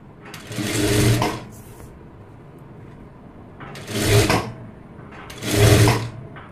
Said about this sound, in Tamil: இந்த 2 எட்ஜையும் மட்டும் நீங்கள் கரெக்டாக எடுத்து வச்சு தையல் மட்டும் போடுங்க போதும்.